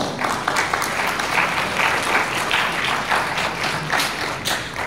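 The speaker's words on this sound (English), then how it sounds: "Applause, please." Sustained audience applause at an IMA medical conference held with Guntur Medical College and the Government General Hospital, a dense steady patter of many hands that stays level for the whole stretch without breaks.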